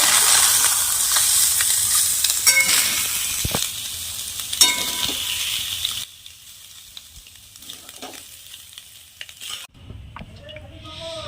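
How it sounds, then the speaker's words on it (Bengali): Soybean chunks frying in oil: a continuous sizzle with stirring scrapes and clinks, loud at first, then quieter with intermittent bubbling and spatter near the end. "সয়াবিনগুলো ভেজে নেব"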